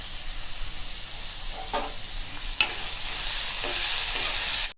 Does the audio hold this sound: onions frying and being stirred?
yes